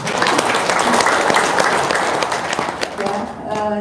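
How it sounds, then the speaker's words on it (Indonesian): A crowd bursts into loud, sustained applause that fades near the end, with voices mixed in underneath. "Tepuk tangan dulu dong."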